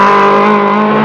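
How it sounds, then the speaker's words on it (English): A Porsche rally car engine during the 1974 Liban Syrie Rallye drones loud and close in a brief, steady, humming roar, with no voices. "Makta in the Porsche, still going strong."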